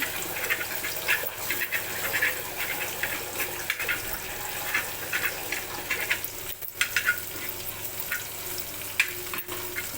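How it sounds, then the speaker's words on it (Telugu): Egg frying on a tawa over a low flame makes a steady bubbling sizzle with irregular scraping and stirring taps throughout, at moderate level and with no talking. "చిన్న మంట మీద ఉడకనివ్వాలి చూసారు ఇక్కడ ఎగ్ అంతా ఉడుకుతుంది"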